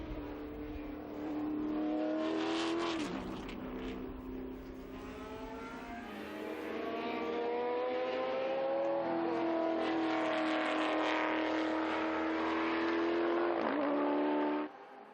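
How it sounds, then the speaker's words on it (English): A Mustang Probe historic race car at the Estoril circuit roars past, its loud engine note rising and falling through gear changes as it sustains a savage, continuous howl across the whole stretch. "Mustang Probe goes through again."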